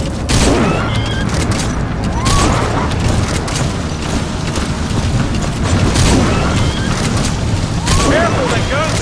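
Gunfire and booming blasts in a Metal Gear Solid V: The Phantom Pain battle, loud, dense and continuous, with repeated sharp bursts over a constant rumbling game soundscape.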